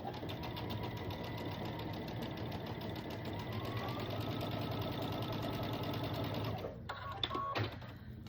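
A sewing machine stitches quilt pinwheel blocks in one steady, rapid run of close mechanical clatter and hum lasting several seconds, then stops, leaving a few soft handling clicks.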